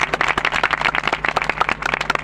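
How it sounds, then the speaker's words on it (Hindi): A church congregation bursting into applause during a sermon, a dense burst of many hands clapping close by for a couple of seconds, with no talk over it. "जोरदार तालियां।"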